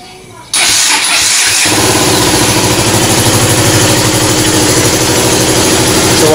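A KTM Duke motorcycle with a broken-wire fault cranks briefly, fires up and settles into a steady, loud, close idle, with a voice talking over it.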